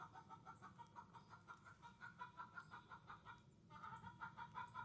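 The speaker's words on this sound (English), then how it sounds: "And I got me an upset chicken." An upset chicken clucks in a steady stream of agitated calls, with a brief pause before it starts up again at the same fairly faint level.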